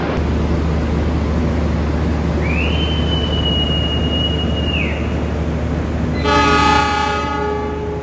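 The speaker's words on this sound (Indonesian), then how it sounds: "Supasnya sudah diberangkatkan kembali." A Supas commuter line train, running economy TSO coaches, departs Bangil station under a constant loud engine rumble, with a rising whistle held for a couple of seconds midway and a chord-like horn blast near the end.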